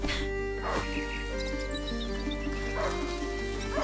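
A hunting dog barks a few times in the video game A Plague Tale: Innocence, short sharp bursts sounding over a steady, loud drone of background music.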